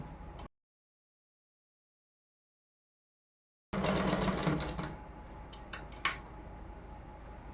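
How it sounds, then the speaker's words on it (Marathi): Sewing machine stitching a fold on a blouse, heard as a brief burst of fast mechanical running after a stretch of silence, then a few light clicks and handling sounds. "इकडे आपण आय पट्टीसाठी अशी शिलाई मारून घेणार आहोत"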